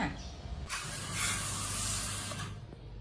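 Water sprayed from a hose to wash dust off an electric fan, a close, loud hissing spray that starts abruptly and runs steadily for a couple of seconds before tapering off.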